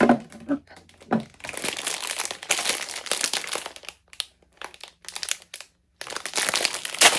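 Plastic packaging around a filter made in Germany crinkles and crumples loudly up close in bursts of handling, with short pauses between rustles.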